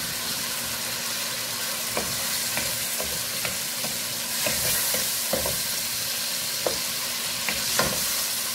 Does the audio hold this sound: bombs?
no